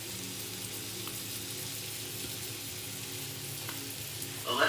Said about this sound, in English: Alright, I'm just gonna sear this for a little bit.